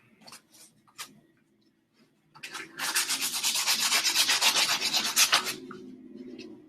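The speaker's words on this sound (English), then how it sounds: "A little bit of sanding on the handle" Sandpaper rubs a wooden wand handle by hand, a few short scrapes at first, then a sustained rapid back-and-forth rasping for about three seconds, close and clear, trailing off into lighter strokes.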